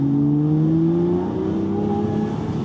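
An Aston Martin V12 Vantage S engine hums and revs with a rising, steady tone, close and fairly loud, with no voices.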